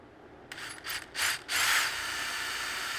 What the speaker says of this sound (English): See, we soften that up and this drill just goes right in.